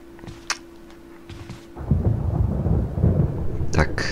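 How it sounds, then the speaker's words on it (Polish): Thunder rolls and rumbles loudly through a rainy storm in the PS3 game Resident Evil, breaking in midway after quieter game sounds and clattering, then sustained with rain beneath. "Ta burza właśnie skomentowała naszą beznadziejną sytuację."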